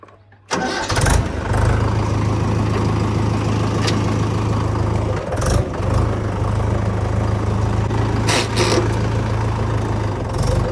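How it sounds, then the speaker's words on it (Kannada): A Mahindra 585 DI XP Plus 50 hp tractor engine cranks briefly and catches, then settles into a loud, steady diesel idle with a low throbbing hum, close by, with a couple of brief clanks and no talking. "ಬನ್ನಿ ಹಾಗೆ ಟ್ರ್ಯಾಕ್ಟರ್ನ ಓಡಿಸಿ ನೋಡೋಣ ಹೇಗಿದೆ."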